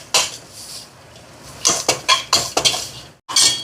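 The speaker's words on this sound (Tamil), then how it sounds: "இதையும் கொஞ்சம் இப்படி வறுத்து விடுவோம் நெய்யோடு சேர்த்து" Grated coconut roasts in ghee in a pan while being stirred, giving bursts of scraping and clinking of a utensil against the pan, uneven in rhythm, close and fairly loud with no talk.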